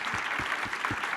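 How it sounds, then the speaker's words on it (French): Applause from an audience at a conference on agrivoltaic projects, a brief stretch of steady, moderately faint clapping with a few low thumps recurring underneath. "On peut les applaudir chaleureusement."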